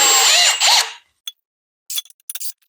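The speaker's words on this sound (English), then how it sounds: "Get those ready to drill in." A power drill whirs loudly for about a second while driving screws to mount a swivel bike rack in a garage, then stops, followed by a few faint clicks and handling noises.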